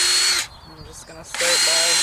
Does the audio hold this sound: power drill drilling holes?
yes